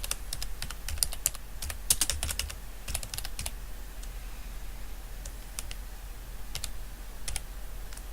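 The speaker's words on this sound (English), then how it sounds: "type, comma, quotation mark, invalid rating, quotation mark, close parenthesis in the formula bar" Typing on a computer keyboard while entering a formula in Excel, a steady stream of close, crisp key clicks in irregular bursts over a quiet background hiss.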